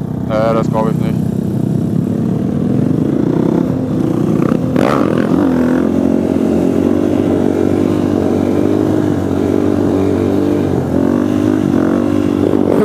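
A supermoto motorcycle fitted with a Rekluse clutch revs loudly and steadily throughout, its engine drone continuous and close, with people talking over it.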